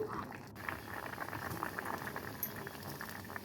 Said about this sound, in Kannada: ಈ ರೀತಿ ಉಪ್ಪು ಬೆಲ್ಲವನ್ನು ಹಾಕಿ ಕುದಿಸಿದ ಈ ತೊಂಡೆಕಾಯಿಗೆ